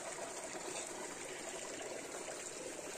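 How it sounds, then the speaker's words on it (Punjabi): Water dripping and trickling down from above in a garden, a steady, continuous wash of splashing with no breaks and no voices. "ਇਹਦੇ ਉੱਪਰੋਂ ਵੀ ਪਾਣੀ ਆ ਰਿਹਾ ਜੀ, ਪਾਣੀ ਦੇ ਤੁਪਕੇ ਆ"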